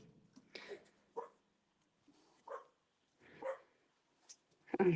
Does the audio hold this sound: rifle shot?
no